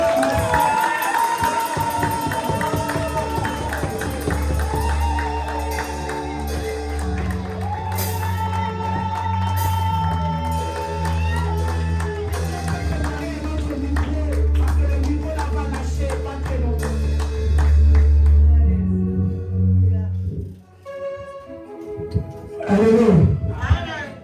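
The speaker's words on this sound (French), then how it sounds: "J'ai cru entendre des acclamations." A church congregation at a Sunday service cheers and shouts in acclaim over loud ongoing music, a sustained crowd roar that swells before dropping away near the end.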